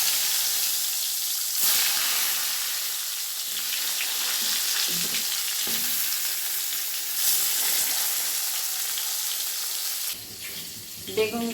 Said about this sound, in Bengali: তেলটা গরম হয়ে গিয়েছে, এবার আমি বেগুনগুলো এক একে ভেজে নেব।